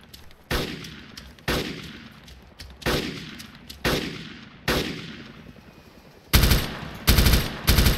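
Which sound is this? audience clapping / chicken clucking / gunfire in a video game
gunfire in a video game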